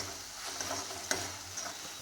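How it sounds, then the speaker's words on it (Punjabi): Garlic and tomato tempering sizzles in hot oil while a spoon scrapes and stirs, with a few light clicks against the pan over a steady hiss. "ਹੁਣ ਹਿਲਾਣੇ ਪਏ ਆ ਤੜਕੇ ਨੂੰ"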